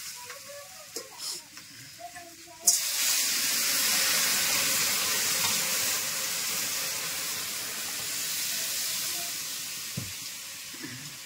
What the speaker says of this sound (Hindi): तो दोस्तों अब इसमें जो है ना पानी डाल दें